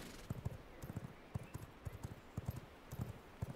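A horse in the video game V Rising gallops with quick, rhythmic clip-clop hoofbeats in steady groups of strikes, faint and even throughout.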